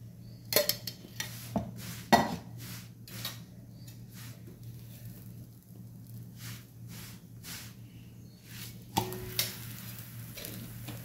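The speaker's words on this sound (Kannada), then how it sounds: "ಸೊ ತವೆಗೆ ಹಾಕ್ತೇನೆ, ಒಂದು 10 ಸೆಕೆಂಡ್ ಬೇಯಲಿ" A palak paratha cooks on a tawa with a little oil, giving a soft, steady low sizzle beneath scattered clinks and taps of utensils against the pan at close range, with no voices.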